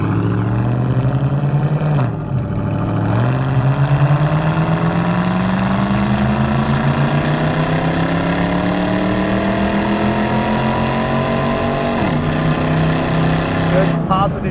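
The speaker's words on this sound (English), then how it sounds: "The exhaust note sounds awesome." A 1998 Pontiac WS6 with an LS1 V8 and automatic transmission revs up through the gears, its throaty, rumbling exhaust rising in pitch, dropping at a shift, then climbing again, loud and close.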